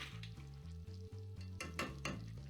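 Butter and flour for a bechamel sauce cook in a pan with a soft sizzle, while a utensil stirs and scrapes in quick strokes close by, under steady background music, without speech.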